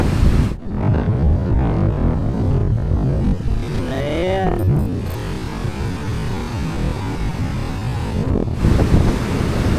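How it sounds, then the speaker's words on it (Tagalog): Loud roaring sea surf and gusting monsoon wind batter the microphone, with big waves rushing and crashing close by and a brief voice cry in the middle. "yung mga alon laki na"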